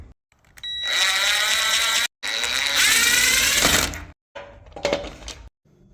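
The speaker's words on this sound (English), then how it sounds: "I cannot get this thing drilled out. It just stops right there." A drill whirs in short, strained bursts while drilling out stubborn screws on a Toyota pickup brush guard, its motor pitch wavering and grinding as it bites and stalls, with abrupt stops and brief silences between.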